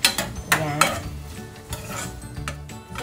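Garlic and ham sauté in a pan for carbonara, a close soft sizzle broken by quick scrapes and taps of a spoon stirring against the pan.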